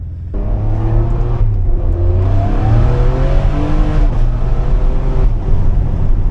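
A Ferrari 599 GTB Fiorano engine drones steadily at low revs throughout, with a rough, burbling, crackling exhaust note that shifts slightly in pitch, close and fairly loud.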